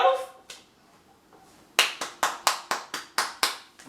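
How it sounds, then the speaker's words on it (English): A single person claps hands about ten times in a fairly quick, even rhythm, with sharp close slaps that follow a couple of softer isolated taps. "Give yourself a round of applause."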